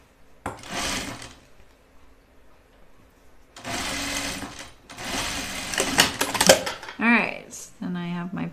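Sewing machine stitching a flannel button-up shirt in two or three steady runs, each a few seconds long, with someone talking in the pauses and over the stitching.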